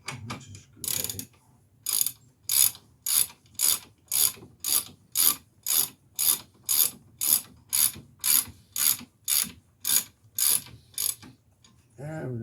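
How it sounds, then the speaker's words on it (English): A bracket bolt being tightened with a ratchet during a wheel bearing replacement, giving a steady run of about twenty evenly spaced, crisp clicking strokes up close, with no talking. "And we're going to tighten up the bracket."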